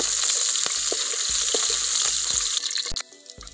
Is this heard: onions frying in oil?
yes